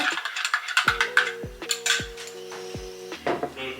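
A spoon stirs in a cup, clinking in a few sharp, ringing taps, then several quicker clatters, close and fairly quiet with no talking.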